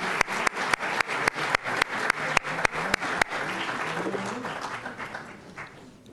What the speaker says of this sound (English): May we applaud the newly elected Vice Chair.